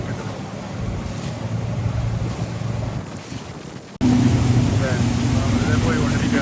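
A motorboat engine running at sea on a fishing trip, a steady low drone with wind buffeting and water rush that jumps louder midway and continues strongly.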